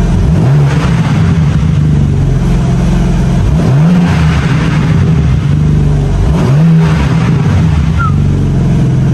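A BMW M3 G80 Competition with its exhaust valves open revs loudly and up close in repeated rising and falling sweeps, about three swells over several seconds, with a steady rumble between them.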